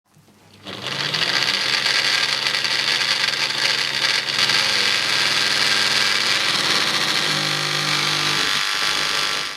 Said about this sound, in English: the motor does spin, but it is too slow and makes unhealthy noises